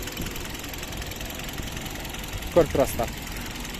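A Hyundai Solaris engine idles evenly under the open bonnet, a steady low hum close by, while someone speaks briefly over it near the end.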